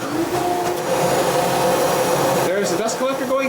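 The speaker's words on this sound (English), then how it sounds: "There's the dust collector going, making lots of noise." A workshop dust collector runs loudly with a leaking hose, a steady whining, droning roar with tonal hum that continues throughout, a voice briefly audible over it near the end.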